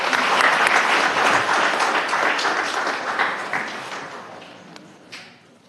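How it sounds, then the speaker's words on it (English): An audience at a Milwaukee County Board of Supervisors meeting applauds, a dense burst of clapping that starts strong and gradually thins and fades over several seconds. "Let's give them a round of applause."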